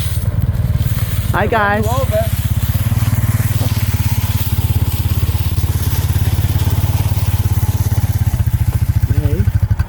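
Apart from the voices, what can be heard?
four-wheeler ATV engine running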